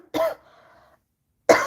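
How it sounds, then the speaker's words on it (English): Two harsh coughs close to the mic, separated by a short pause with a faint hum between them. "I'm coughing."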